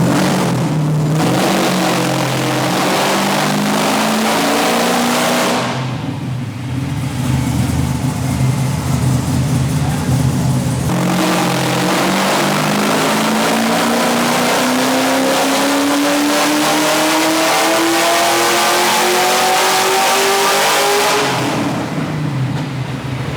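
A supercharged LS V8 in a Nissan Silvia S13 drift car revs repeatedly, rising in pitch through long sweeps with brief drops between, loud and close with no talking.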